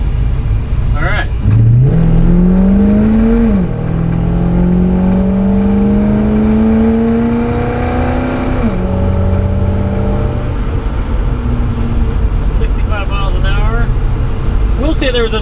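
A 1974 Jensen Interceptor Mark III accelerating hard onto a highway, its engine note climbing steadily through two long gear pulls with a shift between them, loud and close inside the car, with brief talk near the end.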